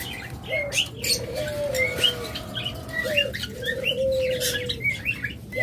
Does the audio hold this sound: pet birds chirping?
yes